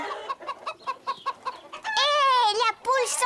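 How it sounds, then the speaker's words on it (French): A cartoon hen clucks in quick rhythmic bursts and then gives a long, loud squawking cry, up close and alone, amid a French-language children's animated story. "Hé, la poule s'en va!"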